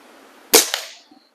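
A single sharp crack of an Air Venturi Omnistorm air rifle firing a 14.3-grain Crosman pellet, close and loud, with a brief decaying tail and a faint downrange tick afterward; no talk.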